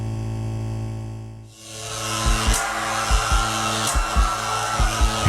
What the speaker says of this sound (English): I threw a turned-on hairdryer into the public bathtub.